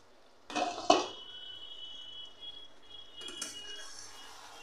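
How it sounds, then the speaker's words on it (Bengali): A metal lid clanks as it is lifted off a cooking pan of spiced jackfruit and prawns. A couple of sharp rattling knocks are followed by a soft sizzle, and a second clink comes a few seconds later. "ঢাকনাটা তুলে দেখে নিচ্ছি।"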